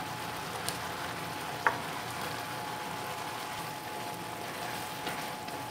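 Shrimp frying in a pan for spaghetti bolognese, a steady close sizzle that continues throughout, with a couple of faint ticks and pops over it.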